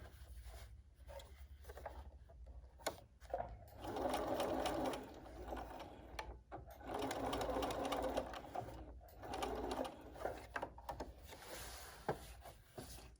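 A Bernina sewing machine stitches a fabric face mask in several quiet bursts of whirring, needle-driven chatter, broken by short pauses and soft handling sounds.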